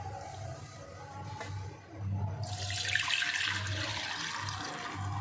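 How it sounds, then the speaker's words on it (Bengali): Homemade lemon vinegar poured through a sieve into a bowl, a steady rushing wash of liquid that swells in loudly after a quiet start and keeps running to the end. "এরপরে একটা ছেঁকনি দিয়ে আমি ছেঁকে নেব।"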